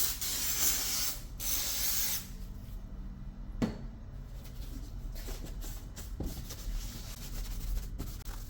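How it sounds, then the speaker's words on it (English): Parts cleaner degreaser sprayed onto a 2015 Mitsubishi Lancer undercar shield, a close, loud hiss lasting about two seconds, followed by quieter handling noise and a few soft clunks. "I'm going to use parts cleaner or degreaser before I put in the fiberglass"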